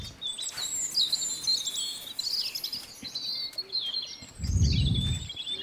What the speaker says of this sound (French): Les rouges-gorges apprécient particulièrement les fleurs rouges.